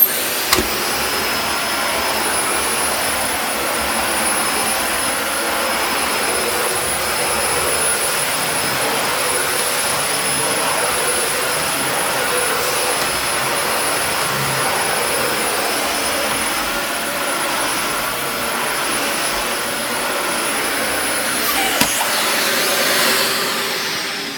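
A Dyson DC40 (mk1) vacuum cleaner runs steadily on a very deep pile rug, a loud, constant whooshing roar close by that holds for the whole stretch with only a couple of small knocks near the start and end.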